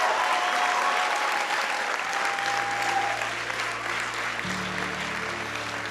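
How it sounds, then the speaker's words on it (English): Full, steady applause from the audience at the TSIBA 2023 graduation ceremony, continuous throughout, with faint tones and low hum in the background. "would like to give another massive round of applause"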